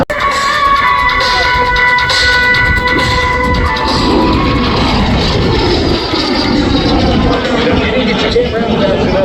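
A Slovakian Air Force-painted jet roars at the Wings over Houston 2025 air show, a loud sustained engine rumble and whine lasting several seconds over crowd babble, with someone speaking.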